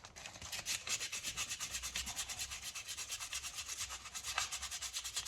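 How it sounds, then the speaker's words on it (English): Steady back-and-forth rasp of hand sanding on a Stanley No. 945 carpenter's ratchet brace being restored, an even rhythm of roughly five strokes per second, close and continuous with no talk. "I'm gonna sand on this a little bit"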